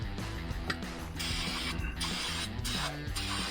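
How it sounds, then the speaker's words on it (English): Bursts of hissing spray from an aerosol can come in several short blasts over a steady mechanical hum with rhythmic tonal pulses underneath, while a serpentine belt system is fitted to a 1975 Lehman 120 engine. "Give it a quick spray."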